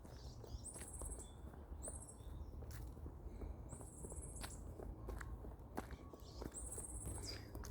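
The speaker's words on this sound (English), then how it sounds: "You can hear the birds." Birdsong during a countryside nature walk with a robin nearby, repeated bright chirping phrases recurring every couple of seconds over steady rustling and low outdoor background noise, moderately distant.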